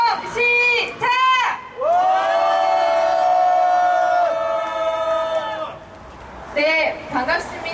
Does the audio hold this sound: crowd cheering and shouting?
yes